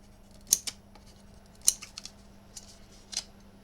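Scissors snip through paper in a few quiet, crisp cuts, single and paired clicks spaced irregularly, close by in a calm room with a low background hum.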